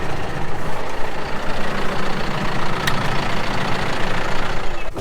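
A John Deere 6130M tractor engine idles nearby, a steady low diesel rumble with a faint knocking pulse, continuous and loud, with a brief metallic tick partway through.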